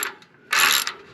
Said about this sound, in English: Alright, so using your 3/16 Allen socket head